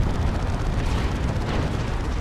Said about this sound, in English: Big plasma cannon shots.